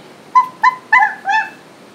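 A dog whimpers and yips in four short, high, tonal cries spaced across two seconds, close and clear over a quiet background.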